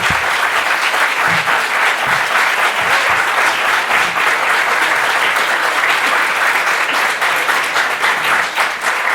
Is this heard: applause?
yes